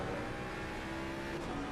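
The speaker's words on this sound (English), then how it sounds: "you could hear the traction control working its best to try and keep the car from sliding out and going all over the place" A GT race car engine in Assetto Corsa Competizione on the Silverstone circuit gives a loud, steady drone at high revs. The pitch stays close, with only slight shifts as the car pushes through the corners.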